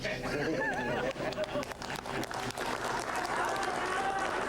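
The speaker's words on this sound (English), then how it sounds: "The clap for that is crazy." Applause from a crowd, heard as a dense wash of clapping with chatter mixed in, loud and continuous throughout, heavily layered with other sound.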